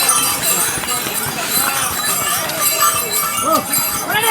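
Horse hooves clip-clopping on a steep mountain trail climbing to Hemkund Sahib in Uttarakhand, a steady walking rhythm under continuous talk and outdoor bustle.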